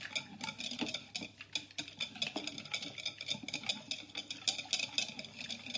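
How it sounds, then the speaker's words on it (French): A spoon stirs cornstarch into 600 ml of milk in a pot, clinking and scraping against the sides in quick, fairly faint repeated strokes, with no one talking. "il faut mélanger avec les 600 ml de lait"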